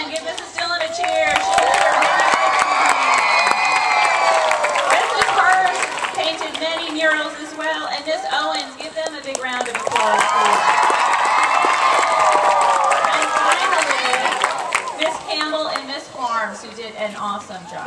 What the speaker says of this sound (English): give Mrs. Dillon a cheer